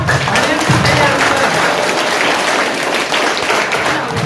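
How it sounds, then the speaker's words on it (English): Audience clapping at a quiz competition final after a right answer; loud, steady applause with crowd voices underneath, sustained throughout. "you clap"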